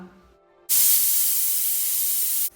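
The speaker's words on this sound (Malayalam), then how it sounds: "ഒരു വിസിൽ വന്നു കഴിഞ്ഞാൽ പിന്നെ ഏറ്റവും മീഡിയം ഫ്ലെയിമിൽ ഇട്ടിട്ട് ഒരു 3 വിസിലും കൂടെ ഒന്ന് അടുപ്പിച്ചെടുക്കാം" A pressure cooker on a stovetop lets out a sudden loud, steady hiss of steam through its whistle while pudding cooks. The blast is close and continuous for nearly two seconds, then cuts off abruptly.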